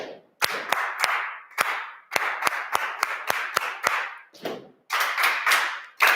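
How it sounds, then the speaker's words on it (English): A group in a Kodály music training session stamps their feet in rhythm instead of clapping, sharp percussive hits landing in short even bursts with brief pauses between phrases, close and clear with no talk. "instead of clapping, just stamp with your leg"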